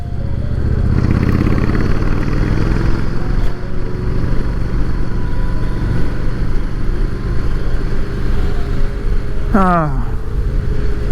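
A motorcycle is ridden along a road, its engine droning steadily and loudly throughout with wind noise, and a rising whine from a passing vehicle near the end.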